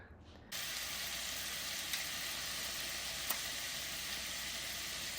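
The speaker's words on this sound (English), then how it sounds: "we're about to add our garlic and we do not want this garlic to burn" Garlic hits hot fat in a pan for shrimp scampi, bursting into a sudden steady sizzle that continues evenly with a couple of small pops.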